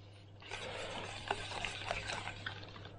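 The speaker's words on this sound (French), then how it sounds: "on va rajouter le beurre et on va monter notre sauce avec le beurre" Butter being whisked into a sauce in a saucepan for a fish dish, heard close up as a steady, busy scraping and swishing that continues throughout with no voices.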